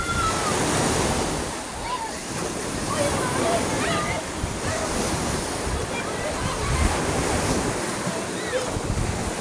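Steady rush of surf washing ashore with heavy wind buffeting the microphone, a continuous roar with faint voices in the background.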